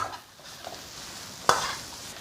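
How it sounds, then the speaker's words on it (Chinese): Sliced pork stir-fries over high heat with dark soy sauce, ginger, scallion, garlic and pickled chilies, making a soft continuous sizzle and stirring with one sharp spatula clank midway, close and without talking. "一起炒香后下入这些小料，继续用大火翻炒均匀"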